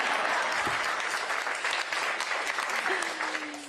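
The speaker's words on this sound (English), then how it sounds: "You can clap for that." Audience applause at a political campaign speech, a dense steady roar of clapping from a large crowd with a few voices calling out, thinning toward the end.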